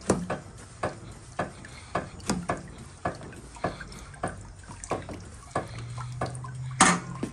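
Water drips fall one after another at a steady rhythm from a lifted one-gallon Bambi Bucket, each drop a close, distinct plink into water below.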